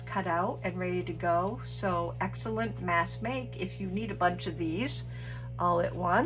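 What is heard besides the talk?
No distinct noise like a dog, phone or traffic.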